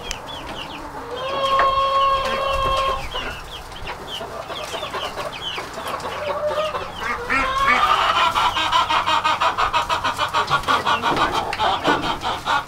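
A flock of chickens clucks and squawks on a farm while being moved from town to open acres, with several birds calling over one another and a louder rhythmic burst of clucking near the end.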